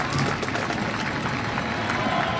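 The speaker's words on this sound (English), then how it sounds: "And you hear the round of applause here at the Glass Bowl." Stadium crowd at the Glass Bowl applauding at a college football game as an injured player is rolled off the field, a steady, dense wash of clapping and crowd noise throughout.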